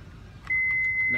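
Power liftgate on a 2016 Toyota Highlander closing with auto lock, marked by a sustained high warning beep that starts abruptly and holds steady through the rest of the moment over light background rumble.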